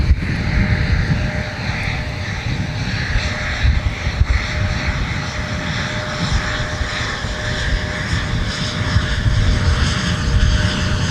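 A Delta airliner lands on runway 12 right at Minneapolis–Saint Paul airport during winter deicing operations, its engines a steady, loud, broad roar with a faint tonal whine running under it, no voices heard.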